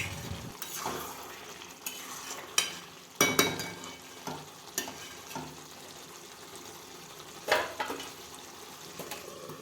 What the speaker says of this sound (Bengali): এখানে মাংস এখন কষাচ্ছি